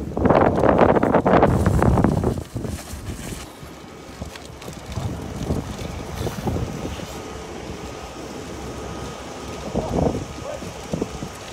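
Strong wind gusts roar across the microphone during a large forest fire in the Beni Hassan woods of Tetouan province, loud and blustery at first and then easing to a rougher, fluctuating rush.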